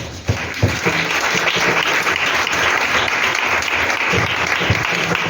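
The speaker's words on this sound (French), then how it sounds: "Acclamons la parole du Seigneur." A church congregation applauds loudly and steadily, dense clapping from many hands filling the space throughout.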